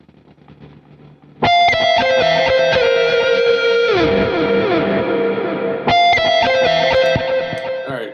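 Electric guitar lead on a clean amp with the treble boosted high, played as a bright sustained phrase that starts abruptly, bends and slides, then is restruck once, loud and alone.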